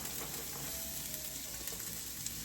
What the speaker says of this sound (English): We're going to fry up some of that cabbage with the onions.